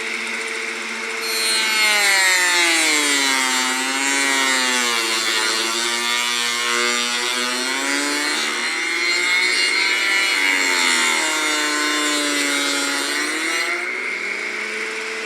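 A homemade mini saw powered by a blender motor cuts through wood with a loud, continuous high-pitched whine that dips and rises in pitch as the blade loads and frees up.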